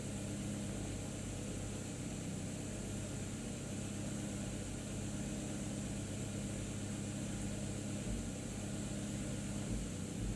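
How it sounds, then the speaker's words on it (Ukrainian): A car engine runs unevenly with a misfiring cylinder during a repair check, a steady close idle drone with faint irregular stumbles, with no voices. "Ось я вже чую, як двигун працює нестабільно з протроюванням."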